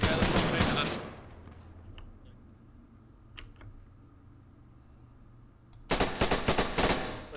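Gunfire at a Marines field training exercise of the 32nd MEU, with a loud burst of rapid shots at the start and another string of sharp, close volleys near the end. A quieter stretch in between holds a few isolated pops.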